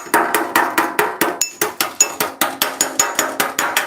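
A hammer strikes sheet metal held against a dolly on a 1938 Cadillac body, a steady run of sharp ringing metallic taps about four per second, close and loud in a workshop.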